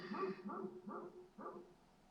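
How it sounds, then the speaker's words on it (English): Several dogs bark in a steady series of four loud bursts, fairly close, with a faint tonal hum running beneath. "There's a lot of dogs barking."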